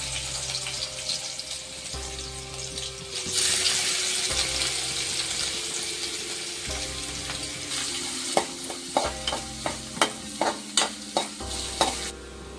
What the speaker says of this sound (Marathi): तर इथं टू अँड हाफ दोन मोठे चमचे तेल घालत आहे तर इथं लसूणची फोडणी वाहणार आहे